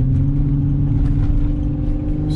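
Infiniti G35 coupe engine pulling hard in manual mode, a loud, steady low drone with a rising whir heard from inside the car, continuous for a couple of seconds.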